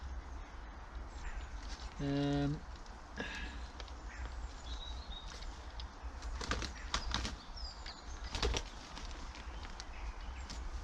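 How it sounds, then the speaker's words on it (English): Wood pigeons burst into flapping flight in a garden where dahlias and sweet corn are being planted, a loud rapid wing clatter for about half a second, then scattered fainter flaps and rustles against steady outdoor background noise, with no talk. "Pack it in, bloody wood pigeons."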